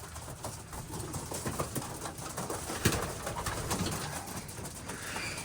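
Pigeons or doves coo softly in a backyard coop, with repeated low murmuring calls and some light scuffling and pecking noises nearby, at a moderate distance and low volume.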